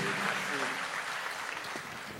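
An audience at a large citizens' event in a hall applauds steadily, a dense crackle of clapping with a voice faintly audible beneath it.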